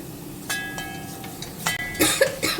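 Several sharp coughs break out at uneven intervals, close and moderately loud, from someone in a kitchen cooking raisin pickle as chilli powder fumes rise from the pan.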